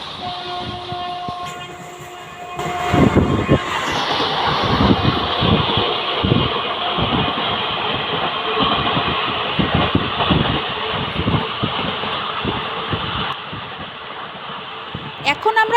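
A Howrah to Bolpur local passenger train passes Boinchi station, rattling along the rails with rhythmic clacking and a steady rumble, after a short horn at the start; voices are faint underneath.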